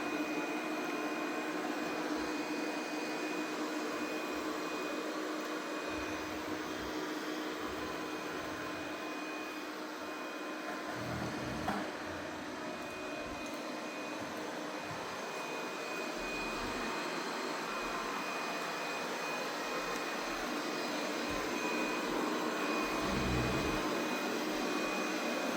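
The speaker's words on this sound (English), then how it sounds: "So we're getting ready to vacuum and mop the floor." Steady whirring hum of a Roborock Qrevo Edge 2 Pro robot vacuum running continuously across a floor, fairly close, with a faint high whine and occasional soft bumps.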